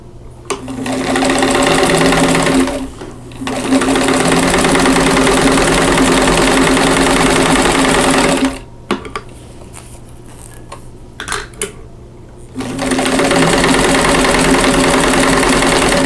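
A sewing machine stitches fabric for a quilt block in loud, steady runs, pausing briefly around the third second and again for several seconds near the middle, with light clicks before it starts up again.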